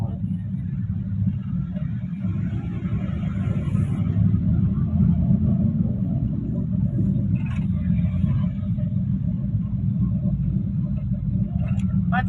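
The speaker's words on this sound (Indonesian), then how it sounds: "macet sedikit guys, maklum pagi-pagi banyak orang yang berangkat bekerja jadi agak merayap sedikit." Steady low engine rumble of cars creeping through light morning rush-hour congestion in West Bandung, a continuous close drone from inside a vehicle with no distinct horns, while someone speaks.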